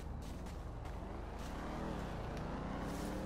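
A loud, close car engine from GTA 5 rumbles and revs, its pitch rising and falling with a steady throaty drone, sounding like a video game vehicle.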